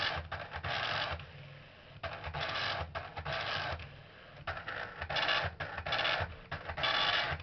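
An Amstrad PCW 8256 dot matrix printer printing, its print head buzzing in repeated bursts as it sweeps across the line, with brief pauses between passes, fairly close.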